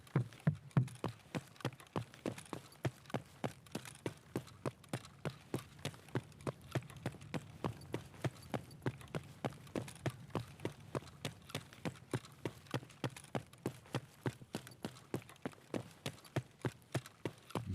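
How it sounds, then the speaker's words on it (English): Footsteps in the shooter game Escape from Tarkov, a steady, evenly spaced run of soft thuds going on without a break, fairly faint and with no talk over them. "I'm still hearing those phantom footsteps because of Steam audio."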